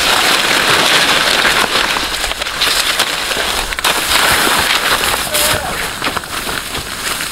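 Heavy rain falling and pattering on a surface nearby, a dense continuous hiss with scattered sharper drops, loud and steady throughout.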